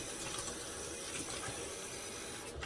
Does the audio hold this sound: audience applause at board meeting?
no